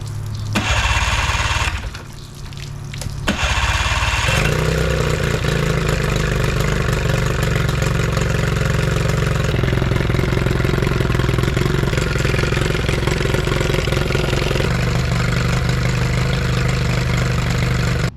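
A small speed boat engine sputters briefly, then catches and settles into a steady, loud idle that runs on continuously at close range.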